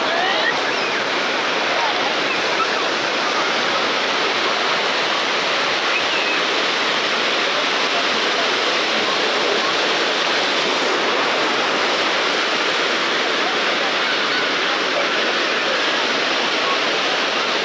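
Steady, dense roar of ocean surf breaking on a sandy beach at Cabo Frio, Brazil, continuous and loud with no pauses, wash of foam filling the whole stretch.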